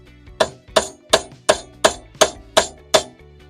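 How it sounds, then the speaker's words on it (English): Eight evenly spaced metallic taps ring out as a screwdriver strikes metal underneath a rusty car under restoration, each hit sharp and close with a short ringing decay. "I will tap it round with a screwdriver again just to be sure."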